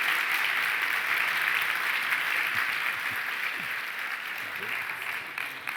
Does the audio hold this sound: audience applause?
yes